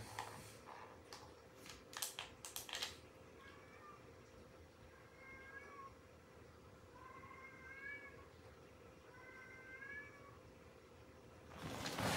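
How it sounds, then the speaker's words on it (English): A cat meows four times, faint and at a distance, with even pauses between the calls, over a low steady hum in the background. "I hear a kitty."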